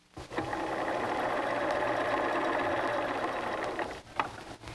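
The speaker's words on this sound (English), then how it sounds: "sewing the 8 rectangles together to form 4 units" A sewing machine runs steadily for about four seconds, stitching quilt rectangles together into border units, then stops with a brief clack.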